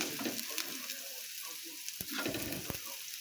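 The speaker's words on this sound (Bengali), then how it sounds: "আমি পেঁয়াজ লঙ্কাগুলোকে এইভাবে ভেজে নিচ্ছি" One large onion and a few chopped green chilies fry in a pan for a koi fish dish, a close, even sizzle broken by sharp scrapes and taps of a spatula, with no voices.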